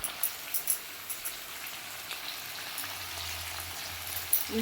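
Chicken sizzling and frying with biryani masala in a pan, a steady soft crackle with occasional louder pops and a low hum underneath.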